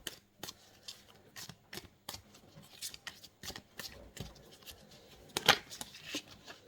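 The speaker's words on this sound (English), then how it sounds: "Oh, they're pretty good to shuffle." Tarot cards from a Monsters deck being shuffled up close, a run of quick crisp riffling bursts with one louder flurry near the end, no talking.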